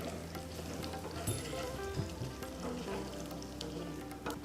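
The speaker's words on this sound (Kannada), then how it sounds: "1/2 ಚಮಚದಷ್ಟು ಸಾಸಿವೆ ಹಾಕ್ಕೊಂಡಿದ್ದೀನಿ." Half a spoon of mustard seeds sizzles in hot buffalo ghee while tempering dal khichdi, a steady, dense crackle and hiss that runs throughout at moderate loudness with small scattered pops.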